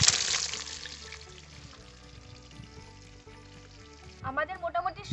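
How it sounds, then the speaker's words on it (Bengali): A jumbo bhola fish fries in oil in a village home kitchen, sizzling loudly at first and then settling to a quieter crackle, with a burst of rattling and clatter near the end. "লাস্টে শুধু এই একটাই মাছ পড়ে রয়েছে, এটা ভেজে নেব"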